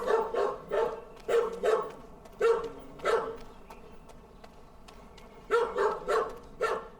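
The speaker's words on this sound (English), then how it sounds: "the dog is over there woofing" In Microsoft Flight Simulator's Antarctica, a dog barks repeatedly in short bursts of two or three, pausing briefly in the middle before starting again, steady and moderately loud.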